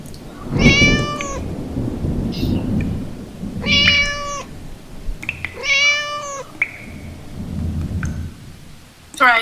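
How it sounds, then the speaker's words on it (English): A brindled cat meows three times, each call clear and drawn out and spaced a couple of seconds apart, as a Macbeth sound effect. Low rumbling thunder and steady rain run underneath. "Thrice the brinded cat hath mewed."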